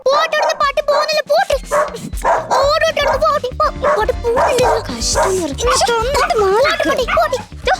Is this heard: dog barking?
yes